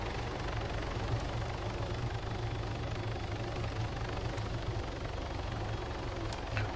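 A helicopter lands in a video game, heard as a steady, dense rotor and engine roar that holds at an even level throughout without a break.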